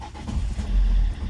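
A Citroen C5 engine idles roughly, a loud, low, uneven rumble with a swelling surge partway through, heard close up with no talking over it.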